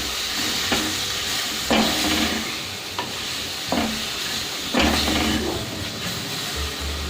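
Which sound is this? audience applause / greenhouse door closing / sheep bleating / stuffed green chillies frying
stuffed green chillies frying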